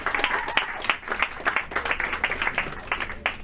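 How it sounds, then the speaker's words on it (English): A small crowd at a kids' organization first-anniversary event claps and cheers, individual hand claps standing out in a lively, uneven burst at moderate volume. "Give him a little love, a little clap, you know what I'm saying?"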